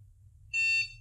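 A shock collar gives a single short, high electronic beep while being paired with its remote, clean and close, about a third of a second long, with a faint low hum underneath.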